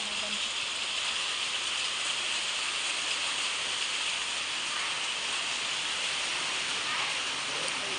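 Heavy rain drums steadily on a tin sheet roof, a dense, even roar with no pauses across the whole stretch.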